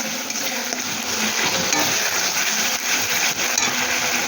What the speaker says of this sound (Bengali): এটা এবার একদম ভালো করে ভেজে নিই।